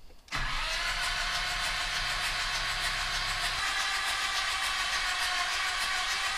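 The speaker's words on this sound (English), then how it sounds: "So we're gonna just crank the motor over and hopefully we'll get oil pressure." A Nissan Navara D40 with a YD25 diesel engine, its oil cooler split, being cranked over: after a brief pause the starter kicks in and keeps spinning the motor in a steady, loud, droning whir without firing.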